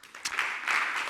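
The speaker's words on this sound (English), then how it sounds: "I hope you can hear the applause" Audience applause follows a conference talk, a moderate, crackling patter of clapping that swells slightly toward the end, fairly close and without voices.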